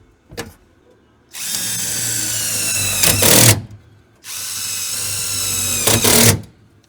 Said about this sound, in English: we're going to self-tapperize this to the floorboard